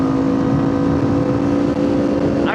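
Motorcycles accelerate hard through wheelies on a rainy ride, a loud, steady engine drone holding close throughout with a faint rising whine near the end.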